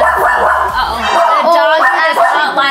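A small dog yips and whines sharply in short bursts, close and loud, mixed in with people chatting indoors.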